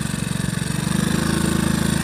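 A motorcycle labours through thick mud on a rural road, its engine chugging steadily up close with a slight shift in pitch partway through.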